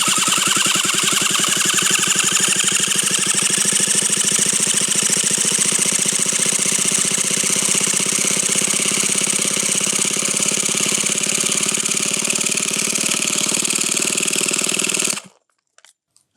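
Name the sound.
HPI Savage RC car engine primed and started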